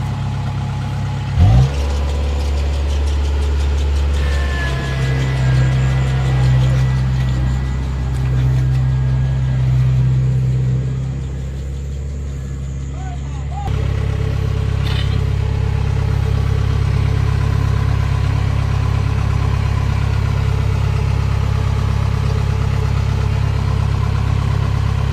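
A Kubota harvester engine runs steadily at night while pulling a stuck Mahindra tractor out of mud, a loud low drone with a brief louder surge partway through, then settling into a constant heavy hum.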